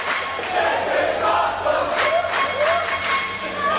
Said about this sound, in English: The crowd is so appreciative of the effort of both these men